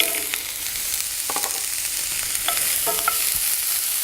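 Gentle continuous sizzle of onions sweating in a Uniflame cast iron frying pan while camping, with light scraping and clinks of a utensil stirring now and then, no talking.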